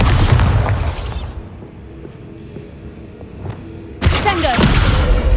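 Bombarda spell explosions from Hogwarts Legacy: a heavy boom opening, a quieter stretch of faint crackle, then a second loud blast near the end, close and forceful.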